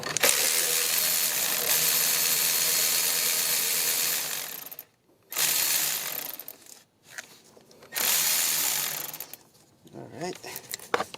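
A cordless power tool loosening an engine mount bolt on a 2003 Pontiac Vibe, several loud whirring and ratcheting bursts separated by short silences, close up with no speech.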